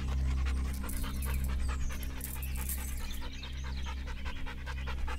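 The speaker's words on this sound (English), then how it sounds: "This dog and his owner will witness such an encounter." A dog pants steadily and close by, quick rhythmic breaths running without pause, with a low background hum underneath.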